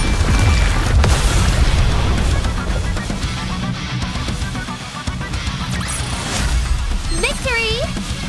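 Heavy bombardment explosions rumble through a battle in the video game NIKKE, a dense, loud low boom that rolls on continuously, with game voice effects and whooshing chirps layered on top near the end.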